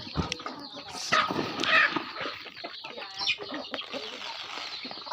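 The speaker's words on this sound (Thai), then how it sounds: "ไก่บ้านธรรมดาเนาะ" Ordinary domestic village chickens cluck and call close by, with busy, overlapping clucks that continue throughout.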